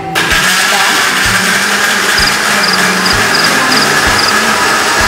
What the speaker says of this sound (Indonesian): Kita blender sikit halia.